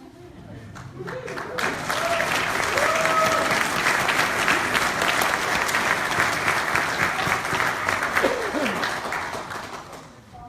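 Applause from a Democratic caucus crowd in Michigan's 5th District greets a member elected by acclamation, a dense steady clapping that swells over the first couple of seconds and holds for about ten seconds before tapering, with faint voices mixed in.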